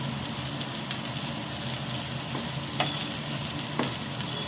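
Onions frying in a home kitchen under a loud running chimney range hood: a dense, steady roar and sizzle fill the whole stretch, with a few faint clinks of stirring and no voices.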